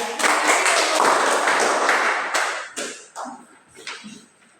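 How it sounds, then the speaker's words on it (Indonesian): A classroom applauds group 2, a dense burst of many hands clapping together that gradually thins out into a few scattered claps, with no talking. "kita memberikan aplaus kepada kelompok 2"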